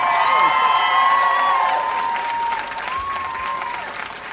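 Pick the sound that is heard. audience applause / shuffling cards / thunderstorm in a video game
audience applause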